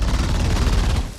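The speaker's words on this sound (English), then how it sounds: "They both then use the assault rifle with almost no ammo left to do this" Rapid assault rifle gunfire from the sci-fi horror film Alien: Romulus, a dense, loud burst of repeated shots with booming low end that runs almost continuously before thinning out at the end.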